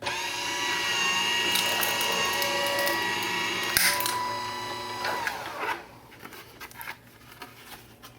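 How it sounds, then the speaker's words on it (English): Electric Vagabond die cut machine running with a steady motorized whir and rattling hum, close by, cutting out after about six seconds into light handling clicks. "this is a Vagabond machine"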